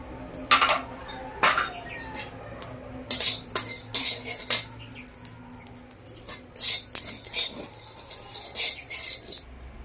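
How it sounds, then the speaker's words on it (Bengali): Black salt and chili powder being stirred in a dry wok, giving a series of close, intermittent metallic scrapes and clinks of a utensil against the pan that come in short bursts with brief pauses. "তো শুকনো কড়াই নেড়ে নিচ্ছি"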